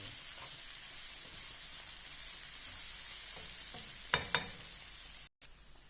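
Bitter gourd cooks in a pan with a soft, continuous frying hiss, a few spatula scrapes and stir taps near the end, fairly quiet and close with no talk.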